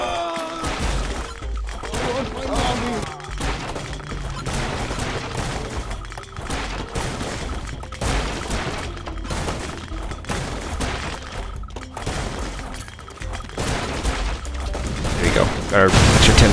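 Repeated crashes, booms and smashing impacts from Goat Simulator gameplay, a dense chaotic stream of explosions and breaking objects that grows louder toward the end.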